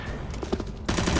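Rapid gunfire from the video game CS:GO bursts out in quick successive shots, loud and close, with a denser volley at the end.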